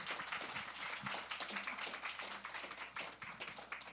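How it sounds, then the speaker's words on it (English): Audience applauding at a fashion week panel talk after a film, a continuous rippling clatter of clapping hands with a faint low hum underneath and no voices. "Again, we have to give another round of applause."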